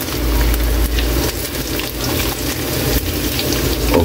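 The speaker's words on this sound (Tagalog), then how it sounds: "pina-fried natin tuna" Tuna fries in plenty of oil with a loud, constant, close sizzle and crackle that runs unbroken throughout, with no talk over it.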